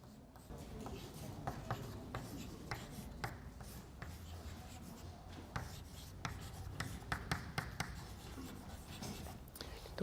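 Chalk or marker scratches and taps steadily on a board during a differential equations lecture, a long run of close strokes with brief pauses and some faint talk underneath.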